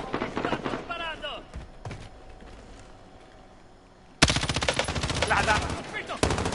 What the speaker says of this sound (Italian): No, mi sparano! Mi stanno sparando!